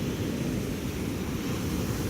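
Steady sea waves rolling onto a sandy beach, a continuous low rushing wash with no distinct breaks, loud and close with some wind buffeting.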